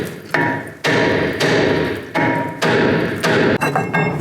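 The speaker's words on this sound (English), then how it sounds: "And take the rotor off, just use a hammer if it's stuck on there." A hammer strikes a rusted, stuck rear brake rotor on a 2008-2013 Nissan Rogue, landing about seven heavy metallic thuds at a steady, close-up rhythm with a brief ring after each blow.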